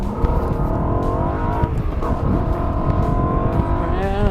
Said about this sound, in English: 440 horse this little puppy is?